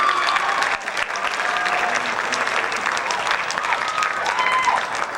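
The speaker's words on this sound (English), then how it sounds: "Please give them another round of applause for an absolutely lovely concert" An audience applauds after a high school jazz concert, sustained, even clapping from a crowd across the whole stretch, with a voice faintly talking beneath.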